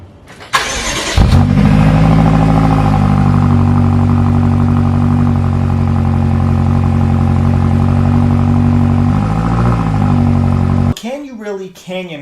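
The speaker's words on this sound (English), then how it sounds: "Now let's listen to the glorious exhaust of the X5M." A 2017 BMW X5 M SUV engine roars and revs steadily for several seconds, loud and close, with a deep rumbling exhaust note before dropping off.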